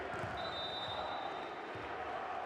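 Olympiacos home crowd roaring through a CEV women's volleyball match against Vero Volley Milano, a steady, dense wash of cheering that fills the whole stretch without a break, with a thin high whistle-like tone running through part of it.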